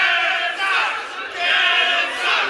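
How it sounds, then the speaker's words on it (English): Wrestling crowd at a Coastal Wrestling show chants in rising and falling waves, a loud massed roar of voices pulsing in a regular rhythm, with no commentary over it. "Just let us listen to the chant."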